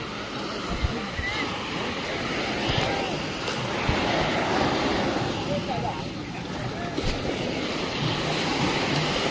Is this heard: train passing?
no